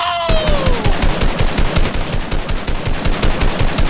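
Rapid automatic gunfire in Fortnite, loud and close, rattles as a steady stream of evenly spaced shots through the whole stretch with almost no talking.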